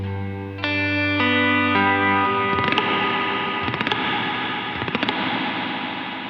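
A guitar played through a Strymon NightSky reverb pedal set to a very small room: sustained chords give way to strummed, distorted notes with a short, tight ambience, loud and alone.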